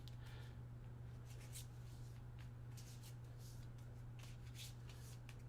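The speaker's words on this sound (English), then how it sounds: "We're going to shuffle them all up." Quiet riffling of a VENOM Assault game card deck being shuffled, a quick series of soft flutters and snaps over a steady low hum.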